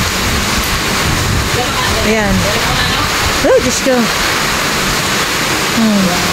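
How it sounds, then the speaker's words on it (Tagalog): Heavy typhoon rain and gusting wind roar in a dense, continuous wash, loud and close, while a person exclaims briefly over it. "Hindi kami nakakatulog dahil sobrang lakas ng ulan at hangin."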